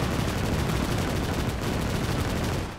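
Dense, rapid gunfire rattles continuously in a loud burst in the video game Call to Arms - Gates of Hell: Ostfront, fading slightly at the very end.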